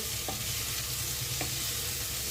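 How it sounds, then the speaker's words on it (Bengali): Beetroot, carrot and potato cook in a pan with no added water, giving a loud continuous sizzle with faint stirring taps over it. "ভালোভাবে বিট, গাজর, আলু রান্না হচ্ছে।"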